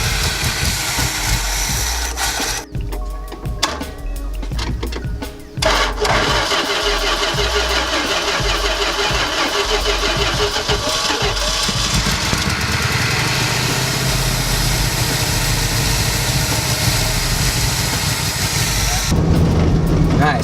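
An old Dodge Class C RV engine cranks, catches and settles into a loud, steady running rumble close by, with a brief dip before the idle continues for most of the clip.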